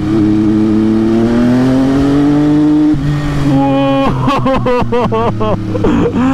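An MV Agusta F3 800 three-cylinder motorcycle engine revs hard and steadily, then blips through rapid throttle bursts and gear changes, loud and close with a raspy high-pitched whine.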